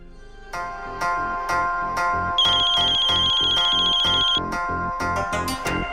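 An electronic phone ringtone playing a repeating melodic pattern, loud and close, with layered chiming notes building through the clip.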